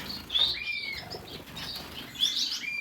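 Golden finches and parrot finches in an indoor bird room give repeated bright, high chirps and tweets, with short bursts of wing flapping close by and no talking.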